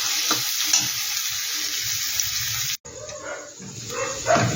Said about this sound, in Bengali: এখানে কিন্তু আমি মাঝারি সাইজের 2খানা পেঁয়াজ দিয়েছি, এটাকে আমি একটু ভেজে নিচ্ছি।